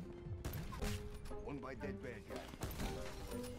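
Rapid gunfire bursts from a video game shooter using weapons such as the Outlaw and Paladin, loud and dense, mixed with other game sounds and voice-like tones throughout.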